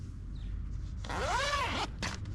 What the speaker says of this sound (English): Back the double zip.